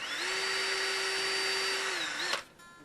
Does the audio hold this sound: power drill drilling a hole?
yes